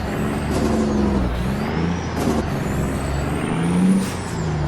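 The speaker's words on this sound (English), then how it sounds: "I can't hear myself think over this truck. It's so loud." Heavy truck engine in American Truck Simulator, a loud, constant close diesel drone with a rising whine layered over it and brief hissy bursts.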